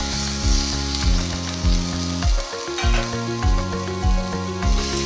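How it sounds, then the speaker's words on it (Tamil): Tomato sautéing in a pan with ginger and garlic for a country chicken pepper fry, making a bright, continuous sizzle. Music with a repeating beat plays over it, and no one speaks. "இப்போ நம்ம ஆல்ரெடி வெட்டி வச்சிருக்க ஒரு தக்காளியை இதில் சேர்த்து நல்லா வதக்கிக்கலாம்."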